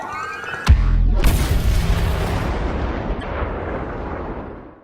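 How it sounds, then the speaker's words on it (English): A Star Wars thermal imploder goes off with a sharp crack followed by a huge rumbling explosion that rolls on and slowly fades over several seconds, loud and close with no talking. "It's the thermal imploder."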